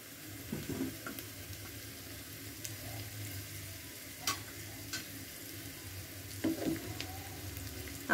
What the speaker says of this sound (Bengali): দিয়ে দিচ্ছি খুব সামান্য পরিমাণে কাশ্মীরি লাল লঙ্কার গুঁড়ি। অনেকটা ভাজা হয়ে গেছে